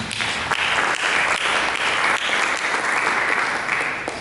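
A church congregation bursts into applause during a sermon, a loud, dense and continuous clapping of many hands with faint sharper claps poking out, close by and without talk over it.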